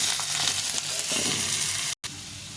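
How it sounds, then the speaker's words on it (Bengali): Potatoes frying in hot oil with dry red chillies and cumin in a Bengali vegetable curry, giving a steady, close, dense sizzle with a few stirring scrapes and a brief drop-out near the end. "আলুটা ভেজে নিই।"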